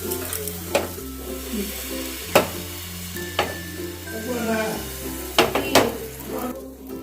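Patisapta batter ladled onto a hot tawa over medium gas flame sizzles steadily, with sharp metallic clinks and scrapes of the ladle against the pan recurring every second or so.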